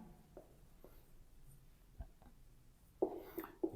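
Marker or chalk writing on a board during an electricity lesson, faint scattered strokes and taps, close, ending with a few sharper squeaky strokes, no talking.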